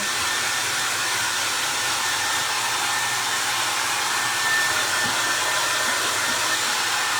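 A hair dryer blows steadily on a recycled vegetable can, a loud continuous whooshing hum that holds unchanged throughout with no talking.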